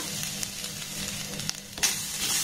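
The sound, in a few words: grated coconut frying and being stirred in a pan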